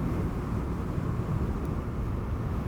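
Super Soco TC MAX electric motorcycle ridden on the road, a steady, loud low rush of wind and road roar with a faint motor hum, continuous and close throughout, with no talking.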